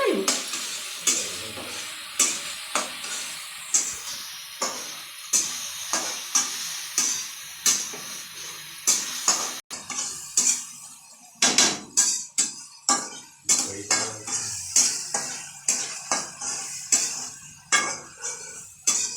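Tomatoes fry in a pan for egg bhujia, a continuous sizzle broken by repeated scraping and clinking strokes of a spoon stirring against the pan, close and fairly steady.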